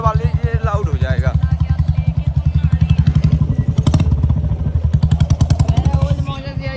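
Loud Royal Enfield Bullet with an old-model engine and a shot-bottle exhaust, thumping in a steady, rapid beat close by, with a voice speaking over it for much of the time.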